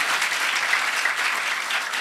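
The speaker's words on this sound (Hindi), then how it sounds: "जोरदार तालियां" Congregation clapping during a church sermon, a dense, even burst of applause from a crowd indoors, continuous and moderately loud for the whole stretch.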